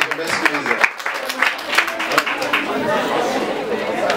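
A student audience at a college integration day quiz applauds amid lively crowd chatter, with scattered claps rising over murmuring voices and building into a fuller, steady round of applause toward the end.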